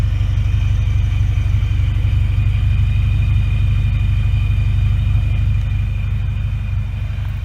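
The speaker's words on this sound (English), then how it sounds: "The car has no cats either, so it's really loud." Supercharged 2.4L 4G69 Mitsubishi Eclipse GS with a MagnaFlow catback exhaust and no catalytic converters, rumbling steadily at a loud, deep idle up close with a low, constant drone throughout.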